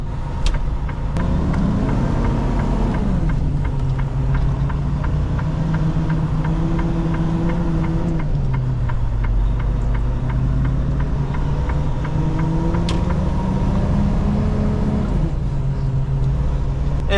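A semi-truck engine drones steadily as the truck drives back to the yard, the low rumble rising and falling with shifts in speed and a faint rhythmic ticking running through it, with no talk.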